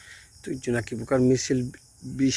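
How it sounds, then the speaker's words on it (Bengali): Crickets chirp in a jungle on a monsoon evening, a faint, steady trill underneath a person speaking. "জঙ্গলে ঝিঝি পোকা ডাকছে।"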